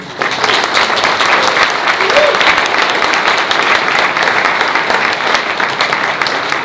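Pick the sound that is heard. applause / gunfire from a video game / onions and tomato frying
applause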